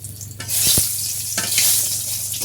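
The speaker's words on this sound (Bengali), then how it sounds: "আর যে পান্তা ইলিশ করার জন্য এখানে আমাদের শুকনো মরিচ ভেজে নেওয়া হচ্ছে" Dry red chillies fry in a pan for panta ilish, giving a loud, steady sizzle throughout with a few sharp stirring scrapes and clacks of the spatula.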